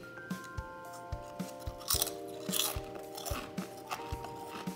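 Biting and chewing a dill pickle flavored crunchy snack, a series of close, crisp crunches spaced roughly every half second over faint background music, with a couple of louder bites.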